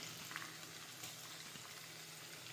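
Chopped chillies dropped into hot oil while cooking an eggplant bharta, giving a soft, continuous sizzle and bubbling hiss, quiet and steady throughout with faint clinks.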